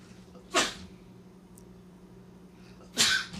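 Two sharp sneezes, one early and one near the end, separated by a quiet stretch with faint room noise.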